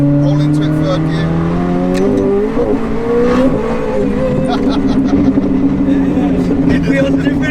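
A McLaren 765LT fitted with nitrous pulls in third gear, its engine a loud, sustained rising drone heard from inside the car while occupants talk over it.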